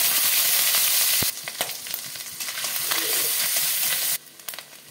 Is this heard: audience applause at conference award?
no